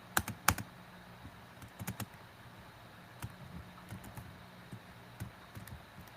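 Computer keyboard typing during a gaming session, scattered quiet key clicks in irregular bursts, a few sharper taps standing out against a faint background hum.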